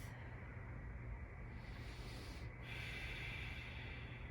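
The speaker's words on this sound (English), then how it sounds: "we're just going to breathe here. Maybe again, tapping into that ujjayi breath" Ujjayi breathing during a yoga class: a steady, airy, ocean-like rush of breath that fills the whole stretch, with one brief dip partway through, close and even.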